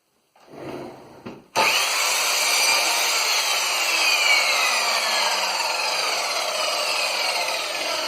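A mitre saw slices through a length of coving, a brief spin-up then a loud, steady cutting whine that holds for several seconds, close by with no talking.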